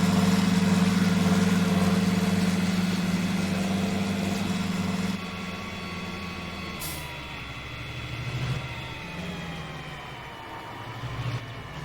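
A tractor idles in Farming Simulator 19, a steady low engine drone that drops slightly in level about halfway through, with faint hissing and a couple of soft bumps over the continuous rumble.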